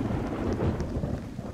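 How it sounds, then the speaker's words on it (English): Video game audio from Roblox Apocalypse Rising: a low rumble of thunder rolls under steady heavy rain, a dense continuous wash of noise without any voices. "I hear that thunder, too."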